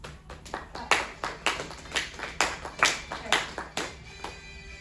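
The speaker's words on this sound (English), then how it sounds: "Come on, let's clap." A small group of students in a classroom claps in a fairly steady rhythm, around a dozen distinct bursts of hand claps close by.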